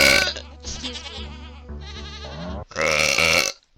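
Several loud, drawn-out burps from a young woman in a row, the last one the strongest, with short gaps between them and no other sound.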